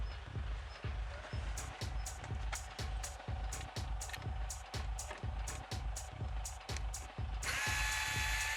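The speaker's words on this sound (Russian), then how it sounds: "здесь получается у нас саморезы" A power screwdriver drives self-tapping screws in a KIA K5 (Optima) car door, giving a rapid, even ratcheting buzz of repeated pulses that ends in a louder, harsher whir.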